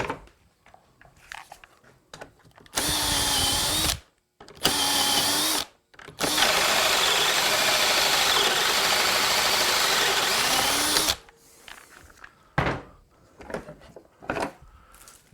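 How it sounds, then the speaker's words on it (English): A power drill whirs in several bursts drilling holes in clamped wood, a couple of short ones and then one long steady run, with clunks and handling noises in the pauses. "Drill the holes."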